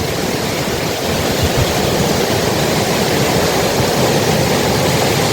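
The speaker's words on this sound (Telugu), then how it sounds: "ఇది కొమ్మటి చెరువు మత్తడి" Water pours steadily over the weir spillway of Komati lake in Siddipet, swollen by natural rainfall, making a loud, continuous roaring rush with no break for the whole stretch.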